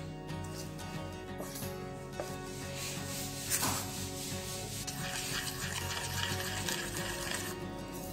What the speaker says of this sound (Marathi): ते आपण बेसन पीठ मिक्स करून घेऊया।